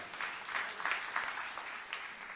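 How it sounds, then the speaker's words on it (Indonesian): A church congregation at a New Year's Eve service claps steadily throughout, a continuous fairly close applause with rhythmic pulses. "Tepuk tangan yang meriah untuk kemuliaan Tuhan."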